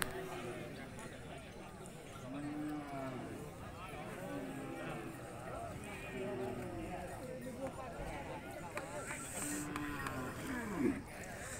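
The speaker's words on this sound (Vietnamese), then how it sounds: "Chợ bò Nghe Loan nổi tiếng hôm nay lại nhộn nhịp" Cattle low and moo several times at the busy Nghe Loan cattle market in Bắc Kạn, northern Vietnam, heard amid a steady crowd hubbub and chatter, with one louder bellow near the end.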